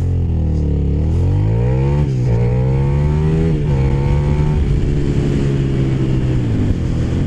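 A motorcycle accelerating hard from 0 to 100 on a road ride, its engine climbing in pitch through several gear changes, loud and close with a steady roar and no talking.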